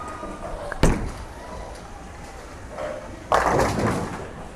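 A Storm Summit Ascent bowling ball, thrown to the right, hits the lane with a sharp thud, rolls with a steady low rumble, then strikes pins in a loud clattering burst near the end.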